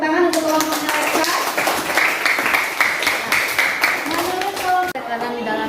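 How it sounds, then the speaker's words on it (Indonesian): Students in a classroom clap for a group returning to their seats, a steady patter of many hands filling the room while voices talk over it throughout. "kita berikan tepuk tangan untuk kelompoknya mereka"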